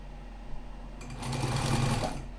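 A home sewing machine stitches slowly in reverse along a skirt waistband seam, its close, steady whir starting after about a second of quiet room hum and running evenly to the end.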